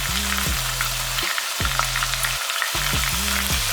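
Chili powder, turmeric and salt frying in a pan for a spinach and chicken curry, a steady loud sizzle with a few brief scraping stirs and short pauses, no talking.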